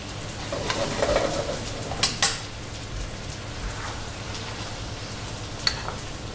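Veal caramelizes in a pan with a caramel base and mandarin, a close, busy crackling sizzle scattered with sharp pops and spits, with no talk over it.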